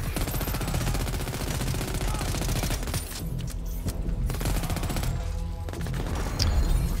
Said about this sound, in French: On vous tire dessus.